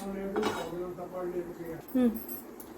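A metal pan is set down on a kitchen stove before frying, making a clanking knock with a brief metallic ring, followed by a smaller clink. Someone talks over it.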